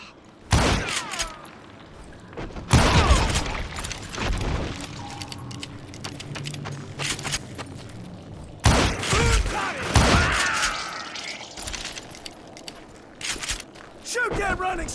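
Gunfire from the Western shooter Call of Juarez Gunslinger, with loud broadband shots bursting around 1, 3 and 9–10 seconds over game ambience, clattering effects and intermittent voices.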